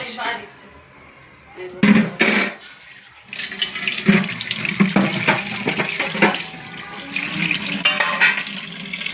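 A kitchen tap runs in bursts and then steadily as a tray is rinsed under it in a sink, with splashing water and a voice talking over it.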